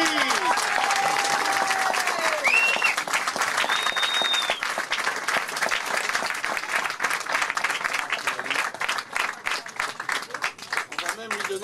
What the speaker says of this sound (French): Noël, Noël, applaudissements.